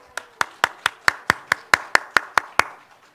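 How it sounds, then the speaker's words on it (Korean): A church congregation claps in thanks during a sermon, about eleven sharp, evenly spaced claps in quick unison rhythm, crisp and close, then silence. "감사의 박수"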